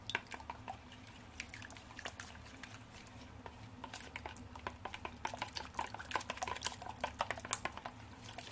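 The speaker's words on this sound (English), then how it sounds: "Mix it all." Egg being mixed into batter in a bowl for a Korean-style chijimi and takoyaki-turned-okonomiyaki, heard as quick, irregular wet clicks and taps of a utensil against the bowl, steady and close with no talk.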